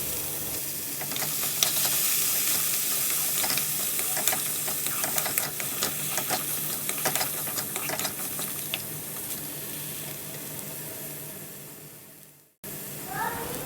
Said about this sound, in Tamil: வேக வச்ச வேர்க்கடலையை சேர்த்து நல்லா கிளறி விட்டுக்கலாம்